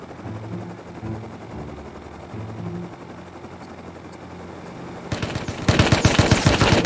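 Heavy automatic gunfire in a survival video game erupts near the end, a loud rapid stutter of shots that follows a quieter stretch of low humming and engine-like drone.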